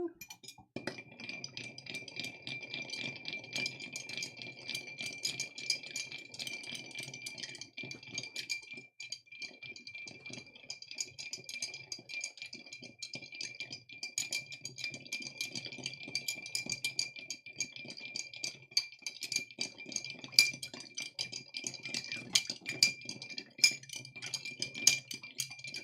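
Ice clinks against a glass as a Negroni-style drink is stirred, with light, irregular taps and rattles running steadily, fairly close and quiet, with no voices.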